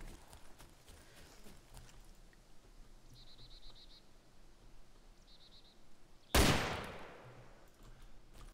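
A single loud gunshot from a weapon in the video game Arma 2 DayZ cracks out near the end, with a long ringing decay over a steady ambient hiss; a few faint distant chirps come earlier.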